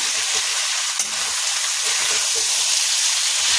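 Shredded chicken fries in a pan with a steady close sizzle and hiss, with occasional stirring bumps throughout.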